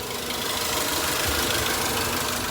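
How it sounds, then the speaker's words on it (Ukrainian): A two-litre petrol engine in a Renault Trafic van runs steadily at idle, a continuous close mechanical hum with a light knocking texture. "Тут 2 літра бензиновий двигун."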